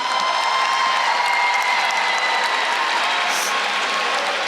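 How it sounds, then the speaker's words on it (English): A graduation ceremony crowd at a high school claps steadily in a large venue, a continuous wash of applause with faint cheering mixed in. "another round of applause"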